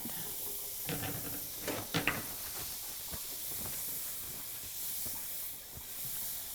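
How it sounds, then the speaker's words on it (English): Butter melts in a hot pan with a steady, soft hiss and sizzle, broken by a few light clinks and scrapes early on, with no talking. "I am just throwing butter in the pan and letting it melt"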